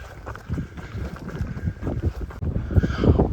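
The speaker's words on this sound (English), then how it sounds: "Probably won't be able to hear me over the wind" Strong wind buffets the microphone on a coastal clifftop promontory, a steady low roaring rumble with gusty swells and no voice audible.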